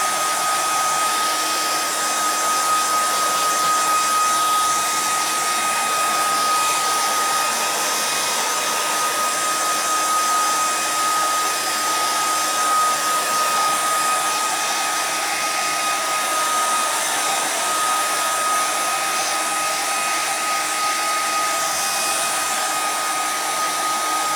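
A hair dryer blows steadily on high, a loud constant whoosh with a high whine that runs without pause throughout.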